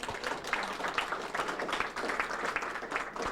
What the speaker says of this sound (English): Let's give her a good hand.